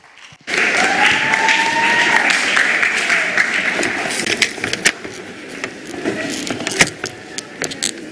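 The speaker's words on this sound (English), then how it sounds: "you will bring the house down with your applause" Applause from the audience at a primary school elocution competition finals bursts in suddenly after a brief quiet start, then carries on loud and dense, gradually thinning into scattered claps toward the end.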